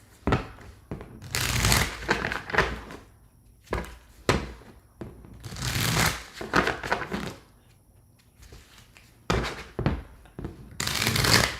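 Tarot cards being shuffled by hand in repeated bursts of riffling and slapping, each lasting a second or two with quieter pauses between, close and fairly loud.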